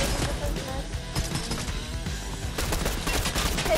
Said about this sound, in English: this guy's shooting me from behind